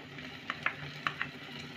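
Ground spinach stirred into a hot pan of spices for palak paneer, giving a soft steady sizzle with a few sharp scraping clicks of a spoon against the pan.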